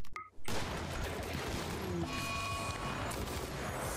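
Shotgun blasts and gunfire from a RimWorld battle form a dense, continuous crackle that starts abruptly after a brief pause and stays steady and loud throughout.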